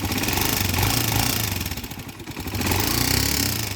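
A TMX Alpha 125 motorcycle engine idles up close, loud and rough, with a fast, persistent ticking clatter from worn cam follower and cam lobe riding over the steady chug.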